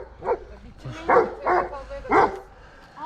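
A dog with mange gives four or five short whiny vocalizations close by, spaced about half a second apart, sounding like whimpering yelps.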